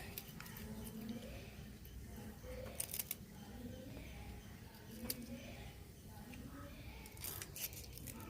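Fresh sardines are cleaned by hand, with faint scraping and a few sharp snipping clicks scattered over a quiet room background and soft voices.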